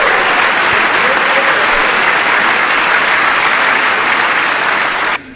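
An audience applauds during a Donald Trump speech: dense, loud, sustained clapping from a large crowd that carries on evenly, then cuts off abruptly at the end.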